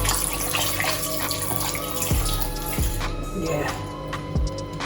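Tap water running steadily into a sink while chicken gizzards are washed, a continuous close rushing flow with occasional knocks and handling sounds, and a person talking over it.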